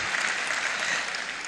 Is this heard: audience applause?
yes